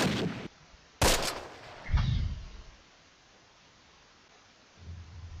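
Sharp, booming gunshots in the World War II strategy game Close Combat: Last Stand Arnhem, a few separate loud cracks with rumbling tails and quieter stretches between them.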